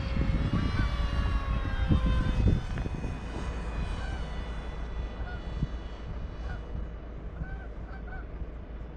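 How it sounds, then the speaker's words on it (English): A cheap RC F-18 model jet on a 4S or 3S setup flies past, its steady electric ducted-fan whine loud at first and easing after about two and a half seconds as it moves away over a windy outdoor field. "But what a beautiful flying plane."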